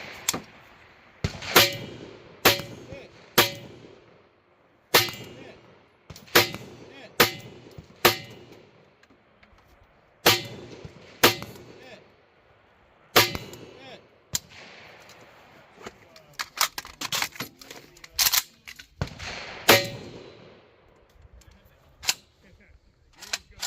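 A Beryl 556 rifle fires at targets, with loud, sharp gunshots that come singly and in quick clusters and ring out at close range, while people talk between shots.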